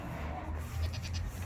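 Goats bleating in a paddock on a very hot day, several short bleats overlapping over a steady low hum of outdoor background noise.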